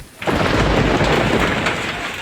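A loud roll of thunder bursts in after a brief quiet moment and rumbles on steadily, with rain hissing underneath, during a thunderstorm in Bangladesh.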